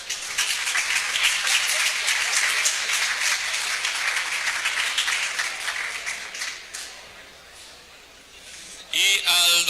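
Applause from an audience at a renewable energy conference, a broad wash of clapping that fills most of the moment, thins and fades out, then a brief burst of something sharper and louder right at the end.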